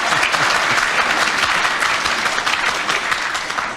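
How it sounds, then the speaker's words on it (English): Studio audience at a radio panel game show breaks into sustained applause, loud and steady clapping filling the whole stretch with no voices over it. "the audience clapped"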